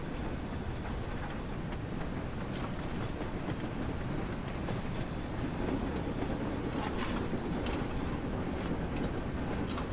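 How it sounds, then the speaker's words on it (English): A steam train rumbles along in Train Sim World 3, a steady low rolling roar with faint high tones on and off and scattered clanks, no talk. "driving a steam train in train sim"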